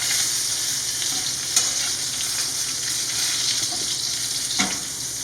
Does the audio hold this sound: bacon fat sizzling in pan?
yes